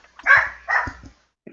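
A dog barks twice in quick succession nearby, short loud woofs followed by a faint start of a third sound, during a home tabletop game session.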